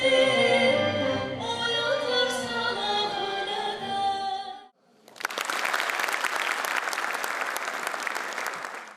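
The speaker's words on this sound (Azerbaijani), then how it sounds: "Səslənən ifalar alqışlarla qarşılanıb" A concert audience at an evening celebrating noted composers bursts into sustained applause, dense and loud, right after a musical performance ends abruptly.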